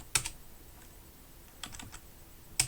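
A few sparse keystrokes on a computer keyboard as a command is typed, quiet, crisp taps separated by pauses in an otherwise still room.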